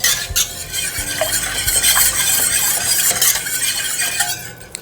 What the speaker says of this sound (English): We will stir.